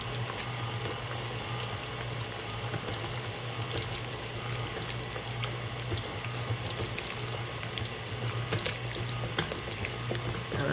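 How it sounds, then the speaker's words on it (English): Milk poured from a cup into a bowl of banana bread batter with pecans, walnuts, raisins and chocolate chips, a steady close liquid trickle and splash heard alone against a constant background hum. "I'm adding my cup of milk."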